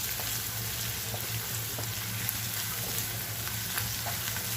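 Egg pepper fry cooking in a pan with Kashmiri chilli powder gives a steady, close sizzle that holds level throughout, with faint stirring clicks and no voices.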